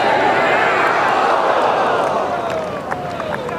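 Golf gallery crowd at the 2009 U.S. Open cheering and murmuring for a player, a broad, sustained roar of many voices that stays loud throughout and eases slightly toward the end.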